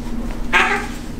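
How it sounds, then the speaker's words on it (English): Cats fighting indoors let out a single short, sharp yowl at close range, with quiet background between. "The cats are fighting."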